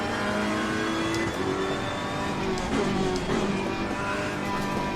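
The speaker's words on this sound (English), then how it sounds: "and you can hear the engine note." GT3 race car engine at Monza in a racing video game, a steady loud engine drone with shifting revs and gear changes running throughout, alone without talk, the note sounding rough and unhealthy in the higher gears.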